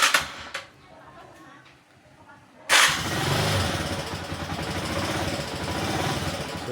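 A Honda TMX 125 Alpha motorcycle engine cranks and catches after a quiet pause, then settles into a steady, rough idle close by, with some talking beforehand.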